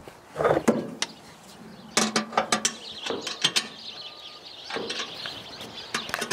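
Ratcheting wrench clicks in quick bursts while a nut is tightened on a skoolie's rooftop deck, close and fairly crisp, with short pauses between runs of clicks.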